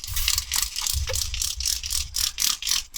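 Cleaning solution is pumped from a trigger spray bottle onto a Tesla Model 3 console, a close series of rhythmic hissing sprays, about eight bursts in quick succession.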